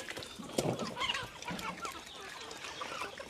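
Faint clucking of chickens at feeding time alongside pigs, soft and intermittent, with some low indistinct noise mixed in.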